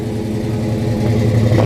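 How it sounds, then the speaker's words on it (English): Exhaust note from a 1972 Chevrolet SS convertible V8, a loud close rumble that swells slightly as the engine picks up revs toward the end, with no voices. "Nice exhaust note. Got the right tips coming out the back."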